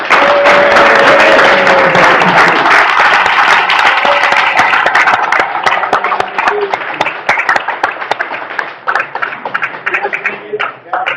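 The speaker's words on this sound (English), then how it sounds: "please give a massive round of applause to Ducati MotoGP rider Nicky Hayden" An audience gives a big round of applause welcoming Ducati MotoGP rider Nicky Hayden at a science demonstration event, loud and sustained clapping that thins toward the end, with a voice speaking over it early on.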